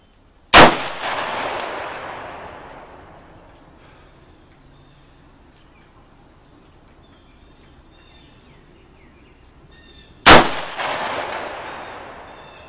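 Two loud gunshots ring out about ten seconds apart at an outdoor range while an optic is sighted in on a bullseye target, each sharp crack trailing into a long echo, with faint birdsong in the quiet gap.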